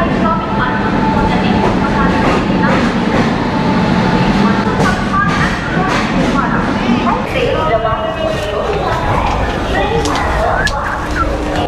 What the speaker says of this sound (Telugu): ఇప్పుడే మన ట్రైన్ అయితే ప్లాట్ఫామ్ నెంబర్ 7 మీదకి అయితే వస్తూ ఉంది